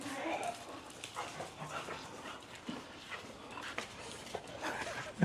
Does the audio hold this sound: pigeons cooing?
no